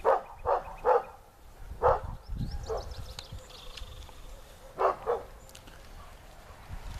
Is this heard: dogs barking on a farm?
yes